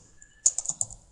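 A short burst of about four quick keystrokes on a computer keyboard, close and crisp, following a near-silent pause.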